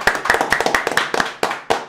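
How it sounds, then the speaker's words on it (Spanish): A small group claps to welcome a guest onto a local Spanish-language show in Herrera, loud close claps in a quick, uneven rhythm with sharp individual strikes and no talking. "Vamos, señores, a recibir con un fuerte aplauso de Libertador de Herrera, Yomili."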